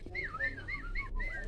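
A person whistles in a 1947 cartoon, a short run of rising and falling melodic whistle notes at moderate level over a low background hum.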